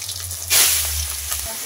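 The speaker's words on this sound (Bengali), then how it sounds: "মাছগুলো তেলের মধ্যে দিয়ে এবার দু পিঠ লাল করে ভেজে নেব" Tengra fish frying in hot oil, a steady crackling sizzle that swells suddenly as the fish go in and then settles into a continuous bubbling hiss, with low background hum.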